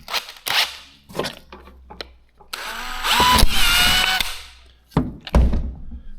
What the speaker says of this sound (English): I think I'll use a step drill.